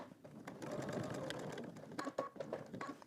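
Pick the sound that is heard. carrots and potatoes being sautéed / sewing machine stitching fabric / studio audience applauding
sewing machine stitching fabric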